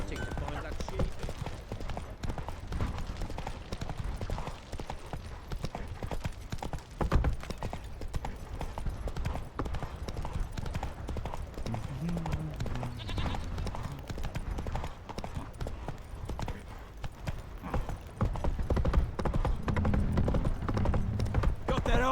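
Horse hooves clip-clop steadily in the Witcher 3 video game as the horse is ridden, a continuous rhythmic trotting under music and talk, with a voice urging the horse on.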